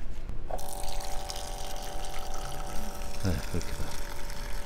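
A rechargeable one-touch folding F-type water dispenser pump starts with a steady motor whine, and water streams out and splashes into a cup, heard up close while a person talks briefly.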